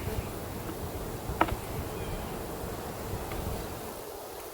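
Honeybees from an overwintered hive of about forty frames hum in a steady, low, continuous drone during an open-hive inspection, with faint rustling and a brief sharper click partway through.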